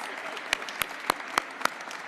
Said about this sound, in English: I'm clapping for you, not for me.